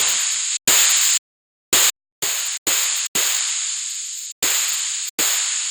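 A synthesized drum patch with heavy distortion fires in an irregular sequence of about eight hits, each a harsh, noisy, hissing burst that holds and then cuts off abruptly, separated by short silent gaps.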